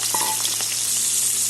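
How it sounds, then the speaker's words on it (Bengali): Potatoes frying in hot oil in a pan, a steady close sizzle with a brief clink of a utensil near the start, no voices. "দিয়ে দিলাম আলু, আলুটা ভেজে নিই।"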